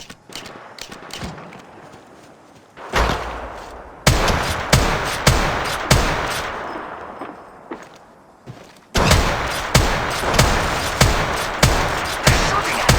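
Gunfire in the mobile battle-royale game Apex Legends Mobile: sharp bursts and single shots crack in quick succession, loud and close, with short pauses between strings of rapid fire.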